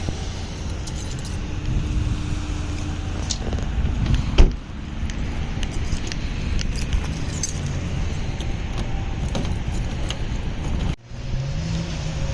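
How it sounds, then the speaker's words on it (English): Keys for a 2001 Hyundai Elantra jangle repeatedly up close, with scattered clinks and a sharper rattle midway, over a low background hum. "Get the keys for the car."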